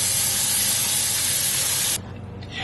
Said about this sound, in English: Rinse the brown basmati rice once or twice to remove the